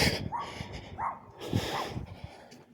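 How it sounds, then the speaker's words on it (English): A dog barks several times from a yard along a residential street in Lock Haven, Pennsylvania, the short, moderately loud woofs spaced about half a second apart over faint outdoor background noise. "Oh, we have dog barking."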